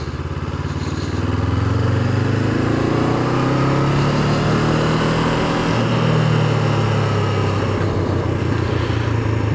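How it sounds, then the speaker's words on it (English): A 2019 Honda CB500F motorcycle engine runs loud and close, its exhaust burbling and shifting pitch as it changes down through the gears. "it's got a little burble to the exhaust on the change down"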